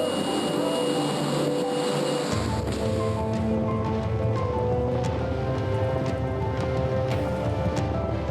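Inside a plane climbing to 4,000 meters before a skydive, a constant loud roaring drone of engine and rushing air fills the cabin with dense broadband noise and no talk.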